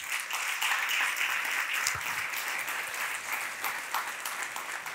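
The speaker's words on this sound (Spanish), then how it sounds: "Dele un aplauso al Señor." Congregation applauding in a church service, a dense, steady wash of clapping that fills the whole stretch at an even level, with no speech over it.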